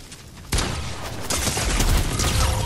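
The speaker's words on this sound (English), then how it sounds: "Get shot at, Flare Gun Boy" Rapid flare gun shots in a video game crack out in a dense, continuous volley, starting abruptly and growing louder and busier partway through, with bursts overlapping into a steady roar of gunfire.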